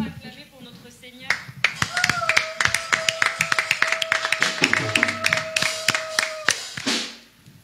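A church congregation claps in praise of the Lord, a dense run of sharp hand claps that swells and carries on for several seconds, with a sustained tone and voices heard underneath.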